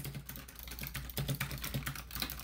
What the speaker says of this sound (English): I can't turn the keyboard off.